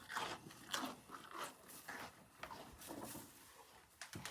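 Close, crisp crunching of a deer chewing potato, bites crackling in an uneven rhythm for several seconds, fairly quiet with no talking.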